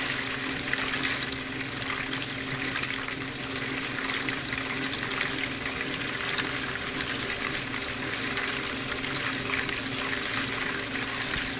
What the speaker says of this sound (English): Spin washing and making sure it's all maintaining balance.